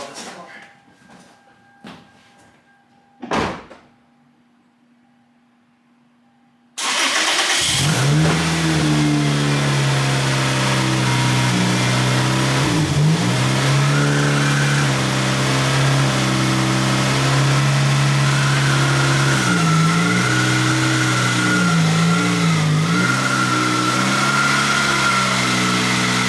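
A Toyota Celica GT-S Turbo cranks and fires up after a few faint clicks and a thump, then settles into a loud, steady close-up idle with a few rises in revs.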